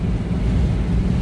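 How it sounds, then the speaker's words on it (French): Wind blows on the coast, buffeting the microphone with a constant low rumble and no voices. "Ah, putain du vent."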